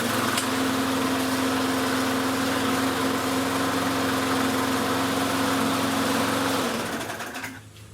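A gas-powered walk-behind lawn mower engine runs with a loud, steady, buzzing drone that holds evenly, then winds down and fades near the end.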